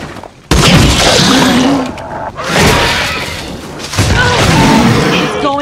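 Fire shots and explosions in the video game Tales from the Borderlands hit in a series of loud, booming blasts separated by short gaps, each decaying into a rumbling tail.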